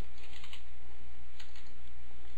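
Keys on a computer keyboard are tapped in a short, sparse run of soft clicks, close and fairly quiet over a faint electrical hum.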